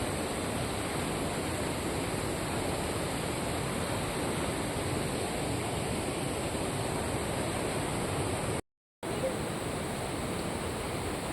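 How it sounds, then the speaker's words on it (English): The Swarna river rushes over the rocks at Durga waterfalls near Karkala in a steady, even wash of water noise, broken only by a brief silent gap. "The river flowing here is Swarna river"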